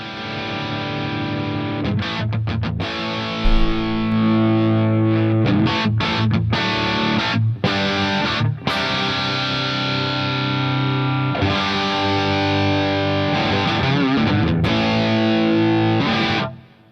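Distorted electric guitar through the Positive Grid Bias FX amp app, a continuous crunchy riff of chugging chords and short gaps that rings out loudly for about sixteen seconds before stopping abruptly, with no voices.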